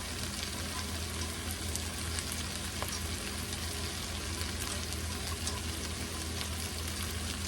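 Heavy cream poured over butter, garlic and lemon juice simmers in a pot, giving a steady, soft bubbling hiss that holds evenly throughout with no voices.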